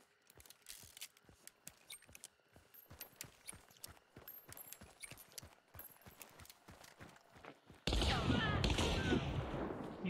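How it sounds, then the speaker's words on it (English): Gunfire in a video game, fired from below at an enemy on a tower: a steady run of sharp repeated shots over about eight seconds, then a sudden loud, dense burst of noise to the end. "I'm just gonna shoot him from down below."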